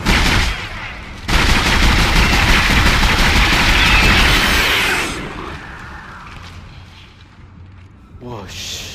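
Loud, dense automatic gunfire blasts continuously for several seconds while shooting at enemies in Dead Space, then cuts off and fades into quieter game ambience, with a voice breaking in near the end.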